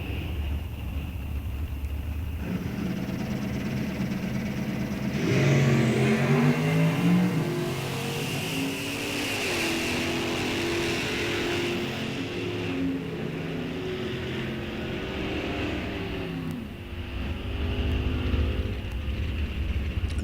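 A 1968 Chevrolet Chevelle J stock automatic drag racing at an NHRA National Open, its engine roaring loudly as it launches and pulls through the gears down the strip, then fading before another rumble rises near the end.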